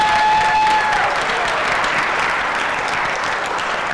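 Crowd at a city coding competition applauds the winners and finalists, a loud sustained wash of clapping that fades slightly toward the end, with a brief tonal whine at the start.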